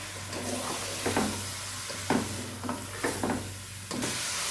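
Marinated chicken sizzles as it goes into a hot pot for chicken pulao, with a steady frying hiss broken by several scraping stirs of a spoon about once a second, close up and with no talk.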